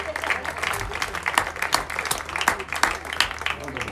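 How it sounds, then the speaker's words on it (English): A softball crowd applauds for player Randall after she recovers from being hit, a steady patter of clapping lasting throughout, with voices mixed in. "Round of applause for Randall as she appears to be all right"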